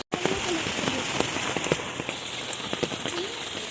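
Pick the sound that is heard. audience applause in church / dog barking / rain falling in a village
rain falling in a village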